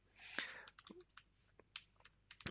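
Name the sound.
typing on a computer keyboard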